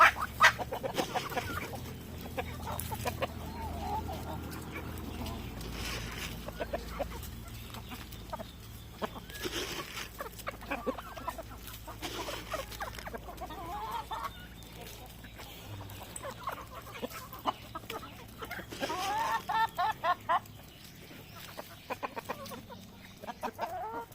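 Native chickens and chicks cluck and peep while pecking at cracked corn, soft intermittent calls scattered over a quiet yard, with a person talking now and then.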